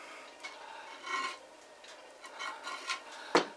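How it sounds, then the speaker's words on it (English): A scraper rasps across a hard layer of harvested sea salt like a shaving stroke, soft gritty scratching strokes repeated several times, close and fairly quiet, ending with one sharper knock. "you can use a scraper like this and scrape it basically the same as if you were shaving with it"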